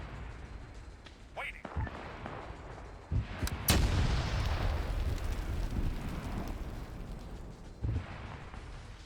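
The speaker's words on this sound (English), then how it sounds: "the good news is you'll hear the explosion, right?" Explosions in a WW2 Stargate mission video game: a few sharp bursts followed by one big blast that rolls into a long rumbling decay, with another thump near the end.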